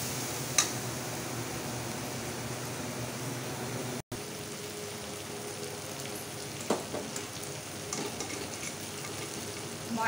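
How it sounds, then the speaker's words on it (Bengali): Masala for chana dal tadka frying in oil in a pan, cooked down until the oil separates, giving a steady, close sizzle with a few scraping stirs partway through. "মশলাটা আমি ভালো করে কষিয়ে নিয়েছি, তেল ছেড়ে দিচ্ছে।"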